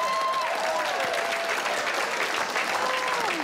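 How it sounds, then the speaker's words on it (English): Round of applause from a small group after someone sculls a beer in a New Zealand setting, steady dense clapping filling the whole moment at close range. "It's so New Zealand to get like a round of applause for sculling a beer."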